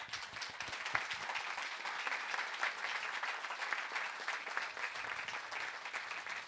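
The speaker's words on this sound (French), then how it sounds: "Je vous demande d'applaudir bien fort Alissa." Steady, vigorous audience applause for a performer at a musical theatre studio event, dense clapping that stays even and strong throughout.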